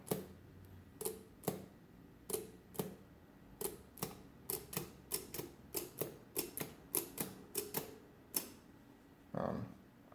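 Keys pressed one after another on a comptometer mechanical adding machine, a run of sharp, close clacks in an uneven rhythm with short pauses, ending in a brief mechanical rattle.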